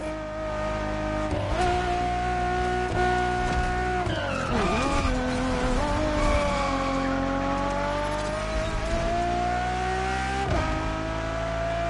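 A Ferrari Enzo in The Crew Motorfest racing game, its loud engine holding a high pitch, dipping during a skidding tire squeal, then climbing again as it accelerates, with no talk.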